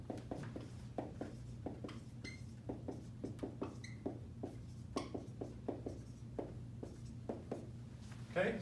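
Pen or marker writing by hand on a surface, a steady run of small, close scratchy strokes and taps across the whole stretch over a low constant hum.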